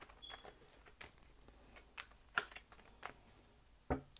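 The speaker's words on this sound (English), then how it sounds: "Give me two more cards, please." Tarot cards shuffled and drawn by hand during a reading, a soft rustling bed broken by several sharp card snaps and flicks spaced across a few seconds, with a louder riffle near the end.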